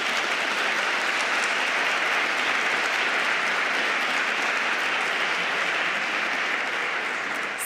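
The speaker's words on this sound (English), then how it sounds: "So let's applaud." Dense, steady applause from a conference audience at an award announcement, loud and sustained throughout with no voices over it.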